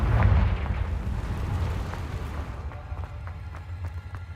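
A Confringo fire spell blast in Hogwarts Legacy lands as a loud, low rumbling explosion that swells at the start and slowly fades into a lingering roar, with scattered crackles and faint clicks trailing off.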